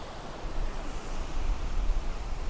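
Heavy wind blows across a beach at sunset, a loud, continuous roar with low rumbling gusts and surf noise mixed in and no talk.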